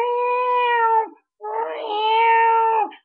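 A cat in heat caterwauling loudly and close by, two long drawn-out wailing yowls separated by a brief pause, with no other sounds.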